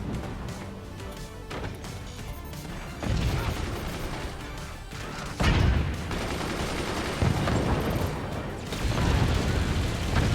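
Heavy weapon fire strikes a fort's mortar emplacement in the physics-based building and artillery game Forts, a loud, dense barrage of gunfire, crashes and impacts with surges of bigger hits.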